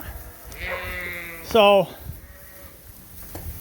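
Sheep on a farm bleat once, a loud, wavering cry close by in a barn while eating first-cut hay, with someone talking quietly before and after it.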